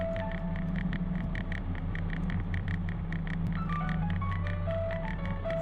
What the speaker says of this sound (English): that ringtone tough, though, not gonna lie